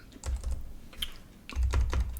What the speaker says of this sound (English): And my typing, you can see why I don't like typing.